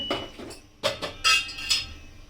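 A lid goes onto a cooking pot of simmering vegetables, papaya, carrot and potato, in a Bangladeshi home kitchen. Several sharp metallic clinks and clatters land close and fairly loud, with no talking.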